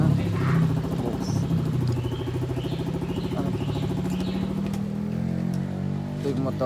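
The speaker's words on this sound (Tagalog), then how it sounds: "Ito yung motor ng boss ko yun." A motorcycle engine idles and revs with a steady low putter on a road, accompanied by birdsong and faint background noise.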